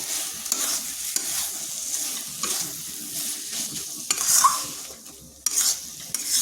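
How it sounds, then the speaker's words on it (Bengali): Tomato and radish curry stirred in a pan over the heat, with continuous spatula scraping and shuffling over a soft sizzle, close and steady with brief louder scrapes. "এভাবে বেশ কিছুক্ষণ নেড়ে চেড়ে নিচ্ছি।"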